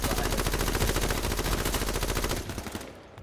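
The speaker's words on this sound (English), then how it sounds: "We're gonna come up on him and shoot." Sustained light machine gun fire in a video game, a fast unbroken burst of loud close shots for about two and a half seconds before cutting off into quieter ambience.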